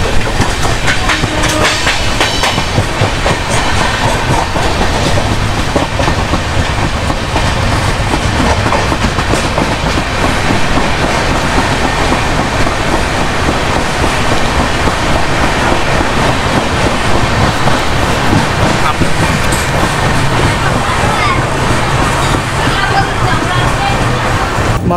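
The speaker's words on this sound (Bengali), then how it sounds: "আমাদের ট্রেন এখন ঢুকছে মেচেদা স্টেশনে" The Kandari Express on the Howrah to Digha line pulls into Mecheda station, its loud steady rumble and clattering wheels filling the whole stretch alongside a faint murmur of voices.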